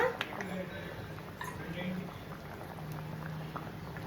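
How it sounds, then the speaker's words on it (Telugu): Sambar with drumsticks simmers in a pot, a faint bubbling burble throughout while someone talks over it. "చూడండి సాంబార్ ఇలా మరుగుతుంది కదా."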